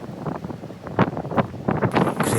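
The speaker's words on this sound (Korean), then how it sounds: "바람이 엄청 심하게 불었습니다" Strong, gusty wind buffeting a rooftop observatory on Yudalsan mountain in Mokpo, a continuous rushing roar with sharp surges near the microphone and no voices.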